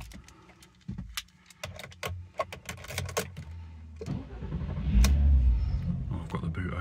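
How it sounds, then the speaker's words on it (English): A 2004 Audi TT 3.2 V6 with a six-speed manual cranks and fires, following light key jangling and clicks, then settles into a fairly quiet steady run; a voice talks over part of it. "And just start the vehicle."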